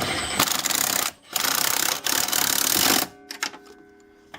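An impact wrench rattles in loud, rapid bursts while tightening the bolts on Koni Yellow shocks during an install on a 2013-or-later Ford Focus, followed by quieter clicks and handling sounds.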